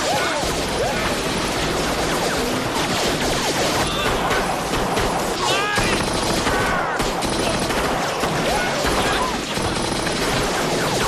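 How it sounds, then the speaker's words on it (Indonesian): A film battle scene between soldiers and Mongol troops is full of dense, rapid gunfire bursts, with crashes and impacts piling up in a loud, continuous barrage while voices sound through the chaos. "pasukan Jungwoo berhasil mengejar pasukan Min Gil dan memintanya untuk segera menyerahkan diri, sehingga menimbulkan kontak senjata di antara kedua belah pihak."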